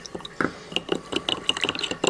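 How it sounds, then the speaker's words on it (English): Water splashes and trickles into a soy sauce and tahini dressing, giving a short run of soft liquid drips and patters close by, quiet and irregular. "It's just like a splash of water."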